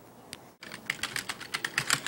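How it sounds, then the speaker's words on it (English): Fast typing on a computer keyboard, with a rapid, uneven run of close, crisp key clicks after a short quiet start and no voices. "I'm typing a love letter to my mom."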